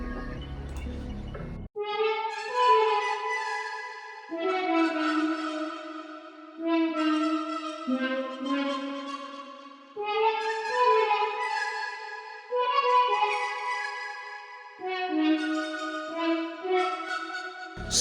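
A synthesized brass melody from Analog Lab plays in sustained, layered phrases with short gaps between them, steady and full, with no voices.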